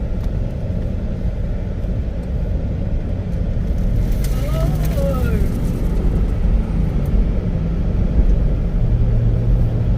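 A 1969 Buick LeSabre with an LS engine swap drives along with a loud, steady low engine rumble and road noise. A brief higher whine rises and falls midway, and a person talks over it.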